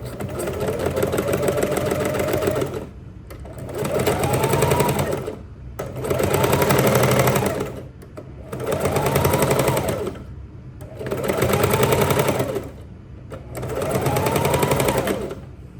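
A sewing machine stitches fabric in six steady, loud bursts of rapid mechanical whirring, each a couple of seconds long, with brief quiet pauses between them, close up and alone.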